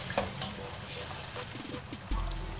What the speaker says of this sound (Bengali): এবার ঢাকনা দিয়ে ঢেকে খুব ভালো করে মশলাটাকে কষিয়ে নেব।